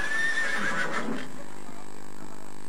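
A horse gives a loud, close whinny lasting about a second on a television comedy show. Quieter room sound follows.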